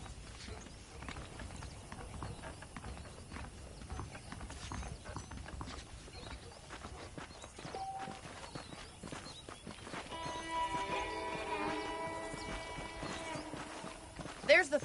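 Horse hooves clip-clopping at a steady walk in the video game Red Dead Redemption on PS5, soft and fairly faint under someone talking, with a snort near the end.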